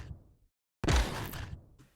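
A layered sniper rifle sound effect built from mouth sounds: after a brief silence, a sudden sharp blast hits and trails off in a rough, noisy decay, up close and alone.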